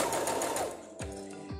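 A domestic straight-stitch sewing machine runs while sewing bias binding onto a women's tank top, giving a close, steady mechanical whir that slows and stops, followed by two short whirring bursts.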